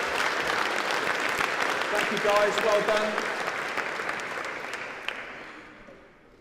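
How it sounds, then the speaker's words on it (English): An audience claps at a news hack award ceremony, steady applause with brief spoken thanks over it, gradually fading away toward the end. "One more round of applause"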